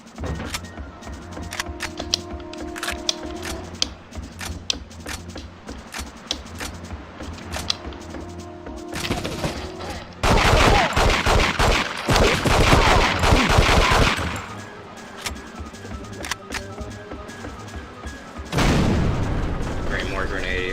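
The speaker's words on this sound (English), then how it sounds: "Sweet, a rocket launcher." Rocket launcher blasts and explosions in the James Bond shooter The World is Not Enough, loud bursts of gunfire and booms in dense bursts, with heavy sustained blasts near the middle and at the end.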